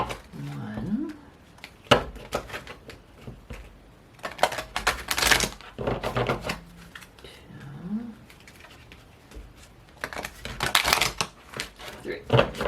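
Oracle cards shuffled by hand during a tarot reading, coming as bursts of crisp riffling and flicking clatter spread through the passage, with brief faint vocal sounds and background noise between them.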